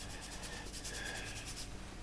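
Parmesan Reggiano grated over a Kentucky hot brown, a steady dry rasping scrape that keeps going for about two seconds, close and fairly quiet.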